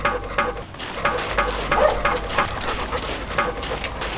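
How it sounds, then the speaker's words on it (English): A dog whimpers and yips in short, uneven bursts over a busy background of shuffling and movement, fairly close and moderately loud. "That's my dog."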